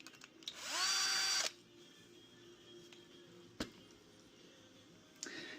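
A power driver with a Torx 20 bit whirs in one short burst to back out a screw, followed by faint clicks and small clunks of handling.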